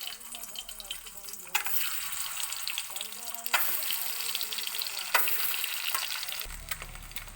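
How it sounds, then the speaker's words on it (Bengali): Duck eggs sizzle and spatter loudly in hot oil in a pan, a dense continuous crackle broken by occasional sharper bumps and scrapes. "এবার আমি ডিমগুলো এই তেলের মধ্যে, গরম তেলে ছেড়ে দিব, ছেড়ে ভালো করে ভেজে নেব"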